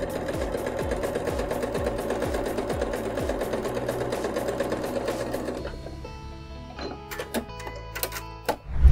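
A sewing machine stitches a fabric seam in a fast, even mechanical rhythm for about five seconds, then stops, leaving a few scattered clicks and handling knocks nearby.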